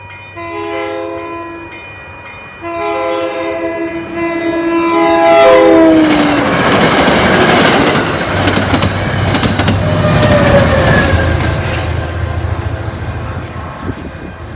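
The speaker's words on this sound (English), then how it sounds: "The next train we catch is MBTA inbound train 1204 with CTC1 cab car" An MBTA inbound commuter train with a CTC1 cab car sounds two loud horn blasts, then rushes past close by with a rising rumble and rattling wheels.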